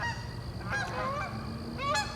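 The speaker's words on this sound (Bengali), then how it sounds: "আকাশে দেখেন হাঁস উড়ে যাচ্ছে আর পাশাপাশি প্যাক প্যাক করে ডাকতেছে" Waterfowl fly overhead near the Red River in Manitoba, giving two separate bursts of honking calls. They are moderately distant, over a steady outdoor background hum.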